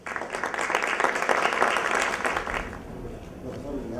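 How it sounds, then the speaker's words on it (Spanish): Audience applause at a book presentation at a book fair in Lima, a dense burst of many hands clapping that swells and then fades out over a few seconds. "Los recibimos con fuertes aplausos."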